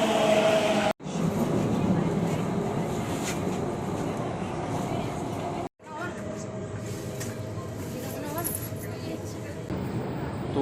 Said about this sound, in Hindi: अरे यार मेट्रो भी आ गई.